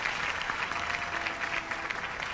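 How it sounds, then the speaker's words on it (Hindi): An audience at a City News Network 15th anniversary celebration gives a full, steady round of applause, dense and even from start to finish with no voices standing out. "तो huge round of applause for everybody ladies and gentleman."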